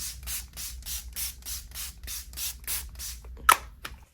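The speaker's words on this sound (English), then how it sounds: "I'm going to do setting spray first." A spray nozzle is pumped about a dozen times in quick, even bursts of hissing mist, ending with a sharp click.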